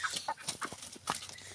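A small backyard flock of about a dozen family-kept chickens clucks in short, irregular bursts, fairly close and clear, with no talking over them.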